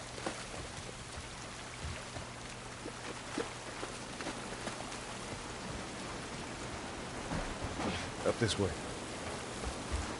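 Rain in the video game The Last of Us, a steady hiss of rainfall throughout with scattered drips and taps, while a person talks briefly near the end.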